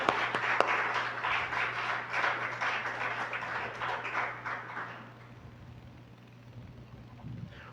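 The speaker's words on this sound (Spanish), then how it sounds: "Denle un aplauso al Señor" A church congregation applauds, with dense, loud clapping from many people that fades away after about five seconds, leaving quiet room tone.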